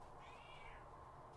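A pet cat lets out a single drawn-out meow close to the microphone, faint overall and heard alone without talking.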